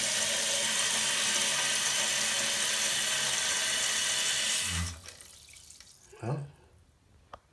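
A toilet tank refills after a float repair, water rushing loudly and steadily into the tank for about five seconds before the float shuts it off, leaving quiet trickles and a brief gurgle.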